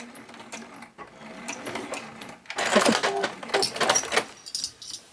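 A sewing machine stitching fabric for a fabric bin, running forward in short bursts and then backstitching in a louder, denser stretch, with brief pauses between runs and no talk.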